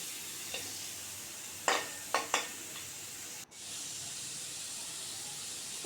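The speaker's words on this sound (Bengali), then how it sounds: "দিয়ে দিব কুচি করা রসুন, কুচানো পেঁয়াজ, হালকা নেড়ে চেড়ে ভেজে নিতে হবে।" Chopped garlic and onion frying in a pan, a constant sizzling hiss with a few sharp stirring scrapes in the middle and a brief break before the frying resumes.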